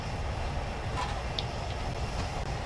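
Flying Scotsman steam train running in Train Sim 2020, a steady low rumble of rolling stock with faint rail clicks, continuous and even throughout with no talk.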